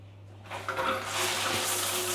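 Water from a rain shower head in a hotel bathroom two-piece shower starts after a brief quiet moment and then pours steadily as a broad, close hiss.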